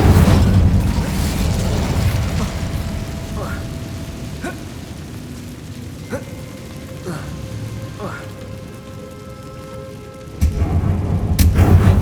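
An Incendio fire spell cast in the video game Hogwarts Legacy, heard as a low, rumbling whoosh with a few faint sparkling accents, ending in a sudden, louder surge of roaring flame.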